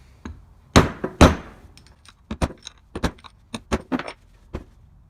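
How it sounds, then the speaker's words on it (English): A scrap of aluminum taps against the scroll of an old four-jaw combination chuck, about a dozen sharp, close metallic knocks in an irregular rhythm, with two louder hits early on and quiet gaps between them. "I'm just going to try a scrap of aluminum here and tap it on the scroll"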